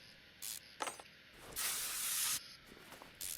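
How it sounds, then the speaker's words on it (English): Repeated short hissing bursts of spray on rusted engine bolts in the video game Car Mechanic Simulator 21, during a rebuild of a 1978 Bolt Chapman engine, with one longer spray, faint clinks, and a quiet background. "Obviously spraying all the bolts to get them off does take up a little bit of time."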